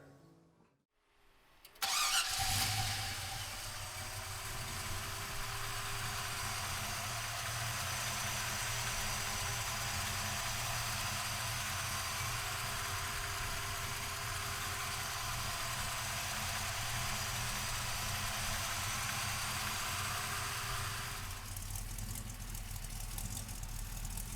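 A 1966 Chevrolet Nova starts with a short crank and catches, then settles into a steady, even idle that runs on close by for about twenty seconds.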